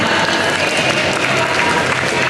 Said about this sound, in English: Give a round of applause to Isa Lee, who is also from the city of Mar